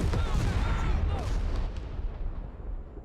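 Heavy cannon fire from a Soviet tank in the Cold War mode of Men of War: Assault Squad 2, a deep booming blast that rolls out into a long rumbling decay amid other battlefield explosions.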